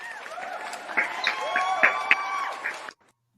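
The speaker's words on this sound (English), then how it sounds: "So one final round of applause to you guys." A round of audience applause and cheering, steady moderate clapping with a few whoops over faint background tones, cutting off abruptly near the end.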